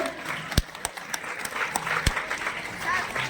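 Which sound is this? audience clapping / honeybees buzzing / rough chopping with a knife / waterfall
audience clapping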